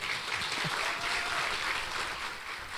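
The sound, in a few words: church congregation applauding visitors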